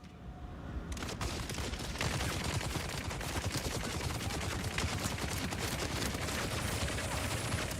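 Dense bursts of gunfire from a Dune video game, rapid shots packed together in a loud, continuous barrage that starts after a brief quieter moment and keeps going without pause.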